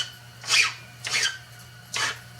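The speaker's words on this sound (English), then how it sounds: "Just use the file to clean up the end of my welding rod so it starts a little easier" A metal file rasps across the end of a half-used welding rod, three short scraping strokes close up with brief pauses between them, against a faint low hum.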